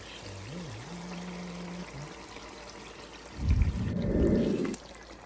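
Water pours over okra being washed in a kitchen, a short close splashing gush rising midway and running about a second and a half before stopping, following a quiet stretch with a faint tone.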